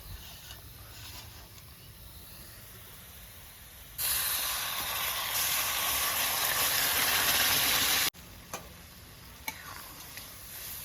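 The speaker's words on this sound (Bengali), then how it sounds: "এই যে আমার পেঁয়াজটা ভাজা হয়ে গেছে ফোড়নটা পুরো রেডি এরপর আমি ডালটা দিয়ে দেবো" Lentils tipped into a pan of fried onion tempering for khero dal burst into a loud, steady sizzle that holds for about four seconds. Before and after it, quieter frying and light clinks can be heard.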